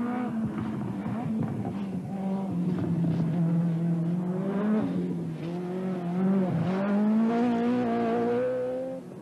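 A Ford rally car on a stage of the 1986 British Open Rally Championship, its engine loud and close, revving hard with rising and falling pitch through gear changes.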